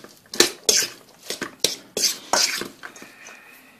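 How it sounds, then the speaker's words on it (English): A utensil mixes raw hamburger meat in a bowl, making a series of close, wet squelching scrapes and clinks in uneven bursts of about eight strokes. "I'm going to mix it all up here"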